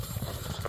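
A well-trained horse's hooves clip-clop in a steady rhythm, close and moderately loud, with no talk over them.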